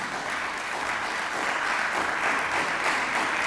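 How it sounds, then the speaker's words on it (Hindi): Loud, sustained applause from a conference audience, steady clapping throughout with no voices above it. "जोर से तालियां बजाएं इन पर।"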